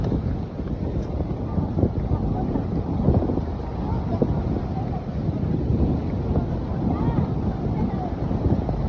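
Strong wind buffets the microphone during a boat ride off Camiguin island, a steady loud rumble with the motion of water and faint voices mixed in.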